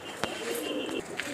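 Malwai umbrella pigeons coo on a rooftop, soft throaty calls close by with a few sharper clicks and flutters, steady outdoor murmur beneath and no clear talk.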